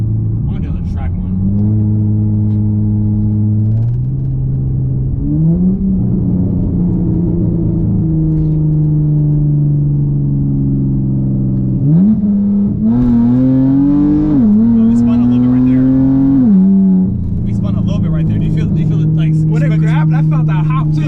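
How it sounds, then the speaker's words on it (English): A tuned V6 Dodge Charger accelerating hard on the road from a rolling start, its engine droning loud and close as the pitch climbs through several gear shifts, with speech heard over it. "that's me doing a 30 roll on the road, no burnout or nothing"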